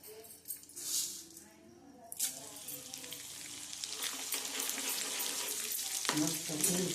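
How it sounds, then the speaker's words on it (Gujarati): Edible gum (gond) fries in ghee with a soft, continuous crackling sizzle that grows fuller and steadier, broken by a few louder bubbling bursts and faint clinks. "તો ગુંદ આપણે તળવાનો છે"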